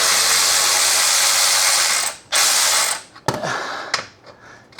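Special tool working a sway bar bolt under a Holden V8, a loud steady broadband whirring for about two seconds, then a brief pause and further shorter bursts with clicks, alone and close.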